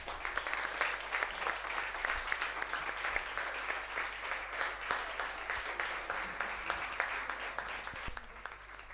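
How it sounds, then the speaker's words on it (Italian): A cabaret audience applauds steadily and loudly for the whole stretch, dense clapping with no break and no voices on top. "E facciamo anche un fortissimo applauso alla colonna portante di questa squadra, a Rafael."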